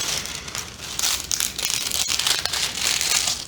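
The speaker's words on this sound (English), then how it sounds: "Sometimes that actually helps it quite a bit to just pull the plastic." Plastic wrap is peeled back from a newly unboxed parcel of tulip bulbs, giving close, continuous crinkling and crackling that rises and falls in irregular bursts for a few seconds with no talking.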